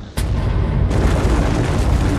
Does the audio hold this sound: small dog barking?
no